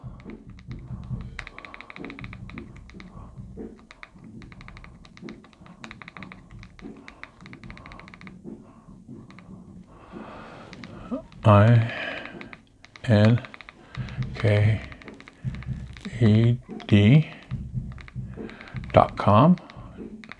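Keys clatter on a computer keyboard in a quick, light run of clicks during the first half, then someone talks in short bursts while occasional taps continue underneath.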